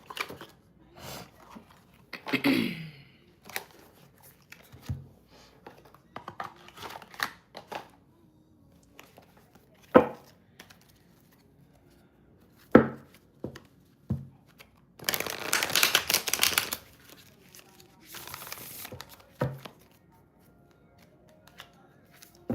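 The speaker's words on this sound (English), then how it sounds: "Let's just shuffle these really quick." Tarot cards are shuffled and riffled in several bursts, with quiet clicks and taps between them and one longer flurry of rapid flicking near the end.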